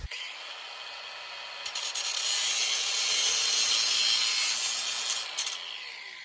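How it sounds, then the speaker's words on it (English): A power drill bores lock holes into the edge of a wooden slab door, a close, loud, steady grinding whir that ramps up, holds for a few seconds, then cuts off. "So that's where I'm going to drill my locks."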